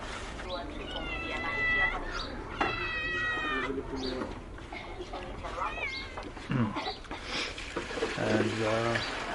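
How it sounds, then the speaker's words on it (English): Several cats meow repeatedly around a Tanzanian street food stall, with drawn-out cries and a caterwaul-like call standing out over general chatter and background noise. "now we know why the cats are here."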